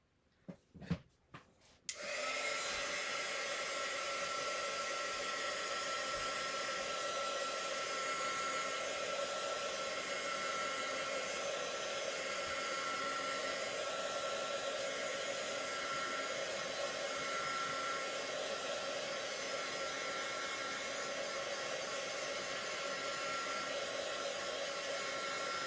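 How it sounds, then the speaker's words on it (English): A hair dryer switches on after a few brief knocks and blows with a steady, close whooshing roar that continues unbroken. "I'm going to close that up and put a little dryer to it."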